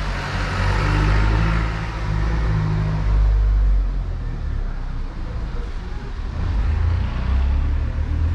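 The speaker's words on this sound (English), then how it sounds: "Let's let this truck pass" A truck rumbles past on a road, its engine swelling in as it approaches, then easing off and building again toward the end, with no talk over it.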